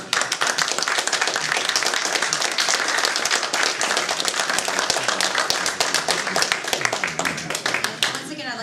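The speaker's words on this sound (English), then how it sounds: "And how about a round of applause for our candidates this evening?" Audience applause after a League of Women Voters gubernatorial debate: dense, loud clapping fills the whole stretch, steady and unbroken from start to finish.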